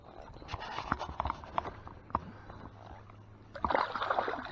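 A fish caught at Cave Run Lake thrashing and splashing in the water beside a boat, a run of sharp irregular splashes and knocks that grow into a busier flurry toward the end.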